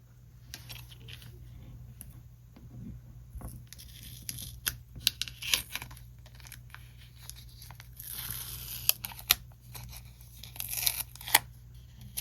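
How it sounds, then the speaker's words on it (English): Tape is peeled and torn off a paper planner at close range, with scattered crinkles, rips and small clicks over a quiet room hum and a brief snip near the end. "If I can get the tape off of it, the other tape."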